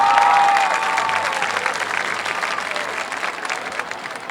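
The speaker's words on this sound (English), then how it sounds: "Round of applause." Clapping from a high school football game crowd at homecoming fills the space, loud at first and then tapering slightly while continuing steadily to the end.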